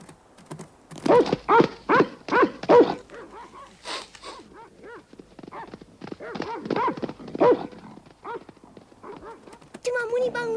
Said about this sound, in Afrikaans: 'n Hond.